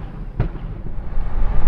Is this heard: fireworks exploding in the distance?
yes